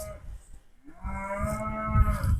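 A cow in a grassy pasture gives one long, drawn-out moo that swells and holds, close and loud, with wind rumbling in the background.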